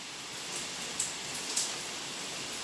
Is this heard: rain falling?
yes